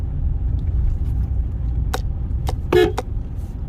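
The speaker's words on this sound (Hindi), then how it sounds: "इस तरीके से देखिए पहले गियर पर आराम से निकाल लेंगे, स्लो स्लो" A car pulls away slowly in first gear in traffic, its engine a steady low rumble close by, with a few faint clicks and a brief toot-like sound, and no voices.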